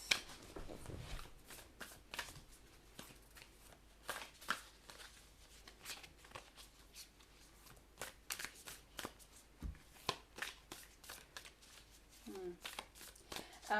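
A deck of angel and ancestor oracle cards being shuffled up close, with repeated quick riffling snaps and papery flutters in an uneven rhythm throughout.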